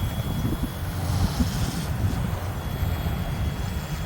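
Strong wind buffets the microphone outdoors during a Yuxiang F07 RC helicopter test flight, producing a constant low, rumbling roar with gusty fluctuations and no talking.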